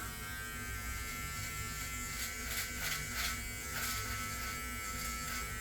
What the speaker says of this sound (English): I'm going to use this body groomer, which actually has blades on both sides along with the foil in the middle here.